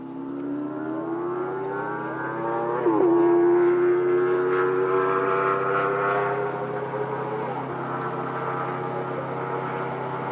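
An American Cross Kart race car engine climbs Pikes Peak with clean downshifts, its tone rising steadily, dropping at each shift, then climbing again as it pulls away, loud and continuous with no talk.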